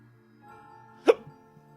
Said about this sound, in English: God damn it, I've got the hiccups.